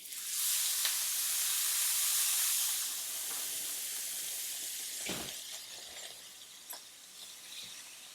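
Thin seasoned steaks hitting a hot pan burst into a loud, hissing sizzle that gradually settles into a steadier crackle, with a few small clinks and taps as more pieces are laid in.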